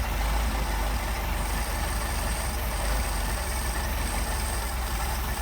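An engine running on Solex carburetors settles into a low, steady idle, a smooth continuous rumble with no voices over it.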